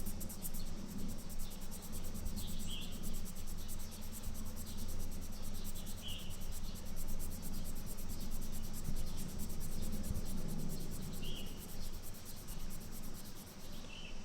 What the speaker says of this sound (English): And I'll just sand it down some more.